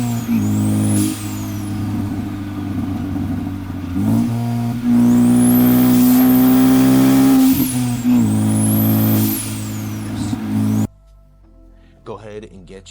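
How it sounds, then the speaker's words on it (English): A Ford Focus ST fitted with a Garrett G25-550 turbo runs with a loud, close engine drone that rises and falls, carrying a high whistling turbo spool and sharp whooshes as it revs between shifts, before cutting off near the end. "if you want a turbo that sounds something similar to this"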